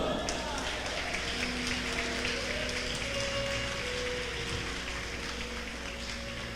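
A church congregation claps during a Portuguese-language sermon, a soft, dense patter of many hands heard faintly and steadily throughout, like light rain.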